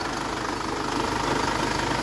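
The diesel engine of a 2015 Mercedes Sprinter 310 CDI short-wheelbase panel van with 176k miles idles steadily close by, a loud, even clattering rumble with no talk.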